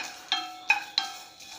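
Spice masala dry-roasting in a pan over a low flame, stirred in three sharp scraping strokes with faint ringing metallic overtones, close and fairly quiet, with no voices.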